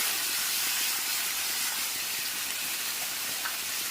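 Loitta fish drops into a hot pan with cooked tomatoes and boiled potatoes, giving a loud, steady sizzling hiss that holds evenly for several seconds.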